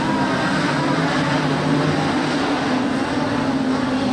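Modified sedan race cars pulling away at the start of a speedway heat at Kingaroy Speedway, a loud, dense engine roar that holds steady throughout, with no speech.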